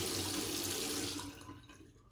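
Tap water runs steadily into a sink to wet a shaving brush, a loud hissing splash that fades out after about a second and a half.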